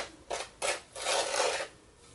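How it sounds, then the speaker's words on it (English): Foundry sand being scraped while preparing a casting mold: three close, soft raspy strokes, two short and one longer, over a quiet background. "Listen to a guy scrape sand."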